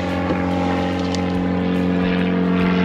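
Propeller airplanes pass overhead at a busy fishery, a steady loud droning hum with a constant engine tone that fills the whole stretch without letting up.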